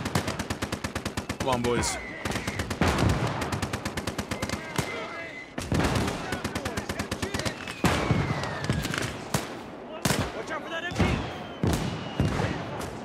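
A German MG nest in Gates of Hell: Ostfront hammers out long rapid machine-gun bursts, dense and loud, with scattered heavier shots and a few voices talking over the gunfire.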